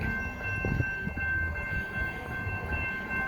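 A CPKC train rumbles past at the Wilderton Street level crossing in Montreal, a steady low rolling noise with a sustained horn tone held above it.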